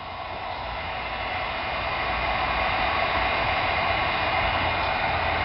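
Heat gun warming amber headlight film on a 2015-2017 Mustang, a steady, loud, broadband whooshing blow that holds constant and swells slightly over the first seconds, with no talking.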